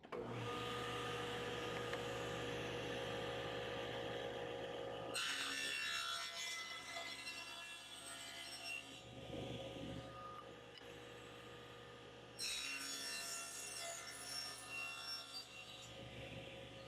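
Saw blade cutting wood for a wine rack end table, a steady whining cut that swells into louder bursts of blade chatter around the middle and again near the end, with no talking.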